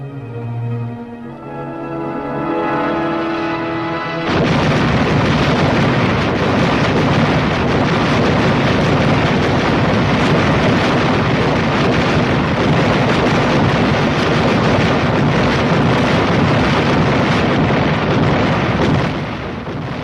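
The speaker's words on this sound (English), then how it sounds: "a lonely howitzer somewhere in Korea lobbing out a few rounds" A lone howitzer firing rounds somewhere in Korea: after a brief opening tone, a continuous loud rumbling roar of blasts and wind fills the rest, heavy and sustained with no voices.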